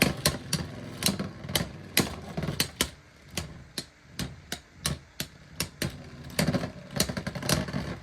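Beyblade X spinning tops, a Cobalt Dragoon and a Ghost Circle stamina combo, battle in a plastic stadium, giving a dense run of sharp clacks and rattling collisions over a continuous whirring spin.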